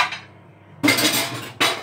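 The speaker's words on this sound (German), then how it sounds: "Man muss ja auch mal ein bisschen mit dem Geschirr klappern." Dishes and cutlery being washed up by hand in a home kitchen, with two loud bursts of clattering and clinking separated by a quieter pause, close to the microphone with no talking.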